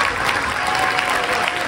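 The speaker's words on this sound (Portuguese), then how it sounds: "Palmas para ela" Applause at a school Christmas party follows a teacher being thanked, a full, steady round of clapping from a crowd with faint voices mixed in.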